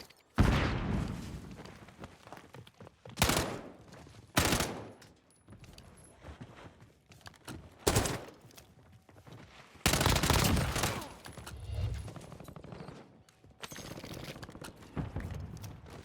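Bursts of rapid gunfire from a video game, several loud volleys separated by quieter stretches of distant shooting and mechanical clatter.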